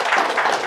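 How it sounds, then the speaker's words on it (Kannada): Applause at a temple festival meeting for the young men who pulled the chariot: a dense, loud burst of many hands clapping together, brief and sustained without pause. "ಅವ್ರಿಗೊಂದು ಚಪ್ಪಾಳೆ ಕೊಡಿ ಜೋರಾಗಿ"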